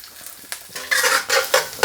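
Garlic and chilies frying in a couple of tablespoons of hot oil in a pan, a soft steady sizzle building in loudness with a few stirring scrapes and utensil clinks, no talking.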